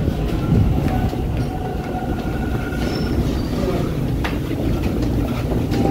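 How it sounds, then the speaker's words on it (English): An eastbound train rumbles past close by with a steady heavy roar, faint metallic wheel squeals and rail clatter running throughout. "That's an eastbound train, don't have to worry about that one."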